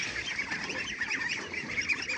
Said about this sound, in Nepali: ए हाँस पनि यहीँभित्र होइन नि हाँस यता हेर्नु यता